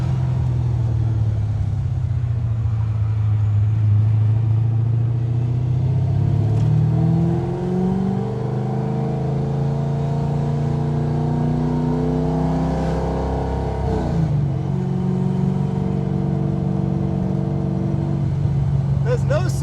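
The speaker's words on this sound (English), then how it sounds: "I have never heard an engine sound this cool." A 1980 Chevy Camaro Z28's naturally aspirated V8 idles with a deep burble, then revs up and down in several throaty surges, loud and close.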